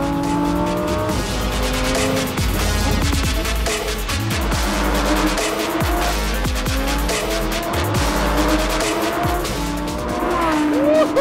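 A Lamborghini Huracan STO laps a race track at the Buddh International Circuit, engine loud and close with repeated rising and falling revs through gear changes, plus tire squeal in the corners.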